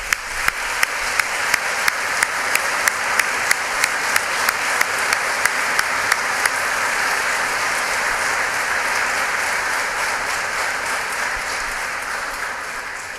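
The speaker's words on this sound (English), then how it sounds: "Let's give him a round of applause," Sustained applause from a congregation at a funeral service in a church, loud and dense with rapid overlapping claps that hold steady for over ten seconds with no talk over them.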